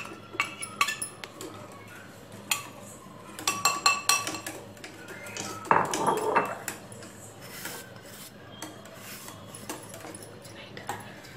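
A spoon scrapes and clinks in a pan while cocoa powder and cornflour are stirred into chocolate pudding, with intermittent metallic taps and rubbing strokes that swell into a denser stirring burst midway, then fade.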